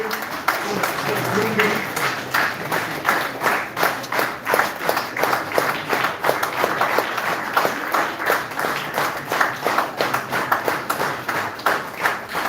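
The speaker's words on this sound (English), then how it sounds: "Let's have a round of applause for the" An audience at a college event applauds students with sustained, rhythmic clapping filling the room, while a host's amplified voice speaks over the start.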